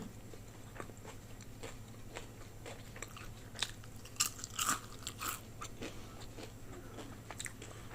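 Crisp bites into fresh pan-fried gyoza, with several short crunches clustered near the middle over a steady low hum, then softer chewing.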